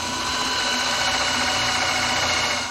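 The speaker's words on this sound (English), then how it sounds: "we can drill those out, being very careful not to drill through to the front of the frame" Power drill boring hinge holes into the back of a wooden shadow box frame, a steady loud whirring motor hum running continuously without pause.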